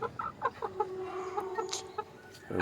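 A sick hen clucks in a series of short, close calls followed by one drawn-out note, with quieter chirps and rustling around her.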